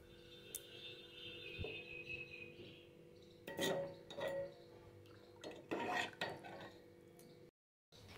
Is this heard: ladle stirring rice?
yes